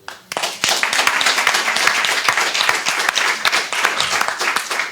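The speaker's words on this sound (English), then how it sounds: "but he deserves the applause, and Omri El-Maleh." A conference audience breaks into loud, sustained applause, dense clapping starting abruptly and holding steady for several seconds.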